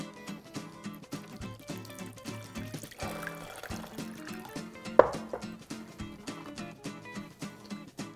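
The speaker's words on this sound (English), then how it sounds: "we're just gonna fill this about 1/4 inch of water." Water pours steadily into a baking dish holding halved acorn squash, a faint continuous trickle with small splashes, quiet and without speech.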